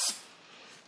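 Penetrating oil is sprayed onto the threads of a John Deere 710 input shaft in one short, quiet aerosol hiss that fades quickly.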